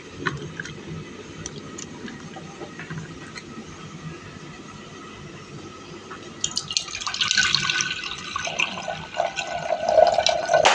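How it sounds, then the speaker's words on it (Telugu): Water poured from a tap or jug into a bowl of soaked tamarind while making pachi pulusu, a low trickle at first that swells into a louder, splashing fill over the last few seconds, with no talking. "ఇప్పుడైతే ఇందులో తగినన్ని వాటర్ పోసుకుందాం."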